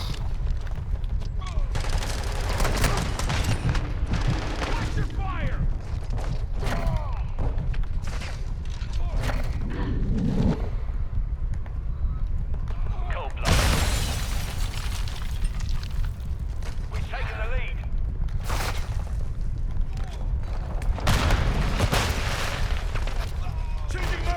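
Continuous loud gunfire and explosions in Call of Duty: Modern Warfare II, with hip-fired weapon bursts and booms throughout a busy multiplayer firefight, with a player talking over the noise.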